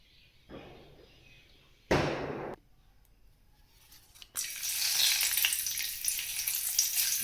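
Oil hits a hot kadhai with a sharp, loud burst of sizzling, then a dense, steady crackling sizzle rises as whole spices and garlic (bay leaves, black pepper, cloves, cinnamon) fry for a liver masala; no one speaks.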